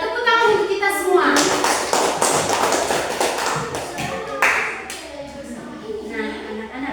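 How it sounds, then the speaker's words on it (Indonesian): Classroom of children clapping together during a civics lesson, a loud burst of brisk clapping that tails off, with children's voices and shuffling underneath. "Tepuk tangan untuk kita semua."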